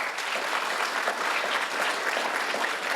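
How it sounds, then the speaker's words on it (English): An audience at a startup business panel breaks into sustained applause, thick, even clapping filling the room throughout. "Love that answer. Can I get a round of applause?"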